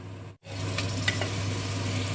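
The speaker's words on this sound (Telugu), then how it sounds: "ఇంకా అల్లం వెల్లుల్లి పేస్ట్ వేసి నూనె తేలేంత వరకు బాగా వేయించుకోవాలి" Ginger-garlic paste and mutton masala fry in oil for mutton dum biryani, giving a steady, close, dense sizzle that cuts out for a split second near the start and then carries on evenly.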